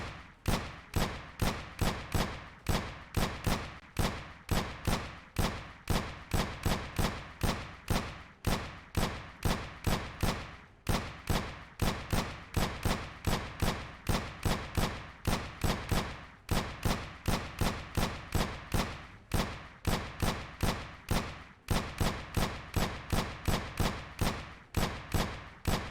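Rapid, evenly spaced gunshots from the Aim Lab aim-training game crack one after another in a steady stream for the whole stretch, loud and close with brief gaps between bursts and no talking.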